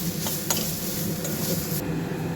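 A beetroot cutlet mixture with shahi garam masala is stirred in a hot pan, a soft continuous sizzle broken by a few sharp spatula scrapes and taps, no voices.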